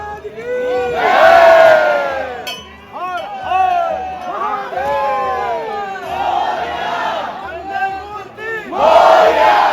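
A large crowd of devotees at Mahakaleshwar temple in Ujjain shouts and chants together in loud, rising and falling waves. Voices overlap close by, with occasional metallic clinks.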